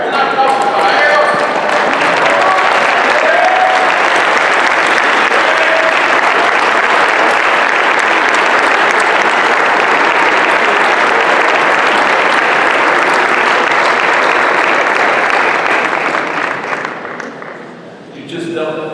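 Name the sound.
audience applause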